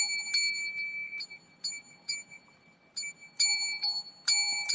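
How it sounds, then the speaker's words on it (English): A small bell is rung in a series of bright, clear metallic strikes, irregularly spaced, some single and some in quick clusters, each with a short ringing decay, alone in a quiet room. "So when I ring the bell,"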